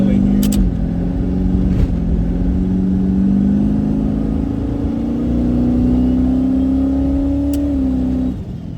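A 1400hp turbo Corvette with a TH400 transmission cruises onto the highway, its engine droning in a loud, close, steady hum that climbs slightly in pitch before easing off, with little else over it.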